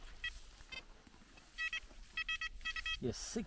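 A metal detector signals a buried aluminium tent-line tensioner with repeated short electronic beeps in quick clusters. The beeps are faint against outdoor background noise, and a brief voice is heard at the end.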